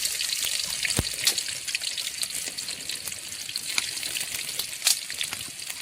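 Mustard seeds and onion sizzle in a hot pan while mutton liver boti fry is being made. Oil crackles and hisses steadily up close, with occasional sharp pops and spits rising over the constant frying noise and no talking.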